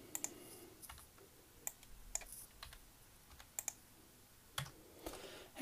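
Typing on a computer keyboard while naming a report file in thermal-imaging software: scattered, close, crisp key clicks in short uneven bursts with pauses, no voice.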